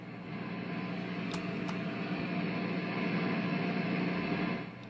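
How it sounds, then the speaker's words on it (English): Steady hiss of static from a guitar amplifier speaker, broadband and continuous with a low hum underneath and a couple of faint clicks, fairly loud and unchanging until it drops away at the end. "I'm going to turn up the monitor so you can hear the static coming out of the speaker"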